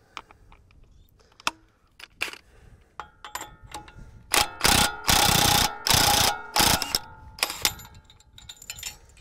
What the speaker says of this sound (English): now we're gonna take that completely off, back to our 36 mil impact